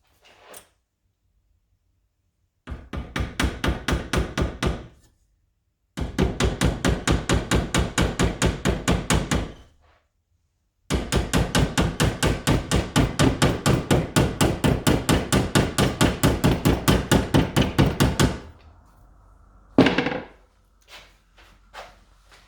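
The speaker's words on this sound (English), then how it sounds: "I've got my little rubber hammer here." Rapid, even series of rubber mallet blows bending a custom metal heat shield for a Renault Spider in three long bursts separated by short pauses, followed by a few scattered knocks.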